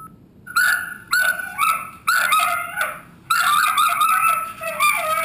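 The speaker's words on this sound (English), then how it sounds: "That's my neighbor's dog. It's just barking and barking and barking" A dog barks in several loud bursts of sharp, repeated barks, with short pauses between them and no talking.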